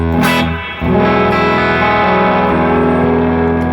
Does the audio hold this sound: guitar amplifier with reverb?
yes